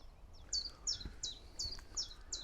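Reed warblers and sedge warblers sing faintly at a distance in the open, a quick run of repeated high chirping notes over soft outdoor background noise.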